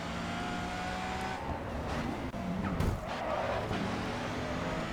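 A race car engine in the video game GRID 2 roars steadily, its pitch shifting as it brakes and accelerates through a corner, with a brief tire squeal.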